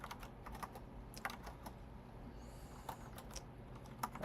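Typing code on a computer keyboard, a soft irregular patter of key clicks with occasional louder taps, fairly quiet over low background hiss and without speech.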